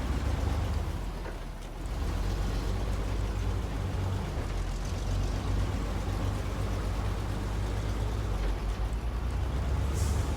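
A Western Star truck drives in SnowRunner, a steady loud engine rumble with broadband road and mud noise running the whole time, fairly constant in level.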